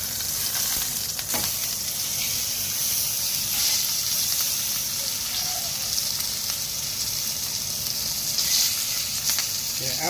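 Beef tataki seasoned with a salt, sugar, chili, sesame and seaweed mix searing in a hot pan, a loud continuous close sizzle with faint occasional clicks and no talking.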